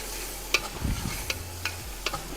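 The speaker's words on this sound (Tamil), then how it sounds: "இப்போ இஞ்சி பூண்டு நல்லா வதங்க ஆரம்பிச்சிடுச்சு" Ginger and garlic sauté in a pan for Ramadan nombu kanji, giving a soft steady sizzle broken by several sharp spatula scrapes and taps, close and with no talking.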